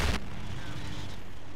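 A heavy blast opens the passage, a tank shell striking in World of Tanks, then fades into a low rumbling ambience of battle.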